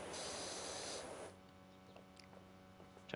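Pressure washer fired through the red nozzle in Powerwash Simulator, a loud steady hissing spray for about a second that cuts off, leaving faint background hum and a few small clicks.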